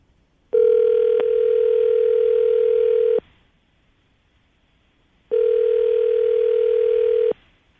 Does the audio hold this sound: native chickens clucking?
no